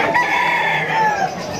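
A large rooster at a busy poultry and pet market in Malabon gives one loud, close crow that holds steady before trailing off.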